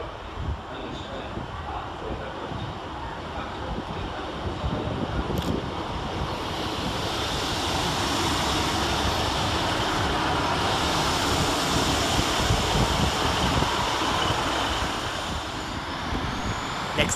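A Transport for Wales class 152 diesel unit arriving at Cardiff Queen Street station, a steady broadband rumble and rush that swells gradually and holds, heavily mixed with wind buffeting on the microphone.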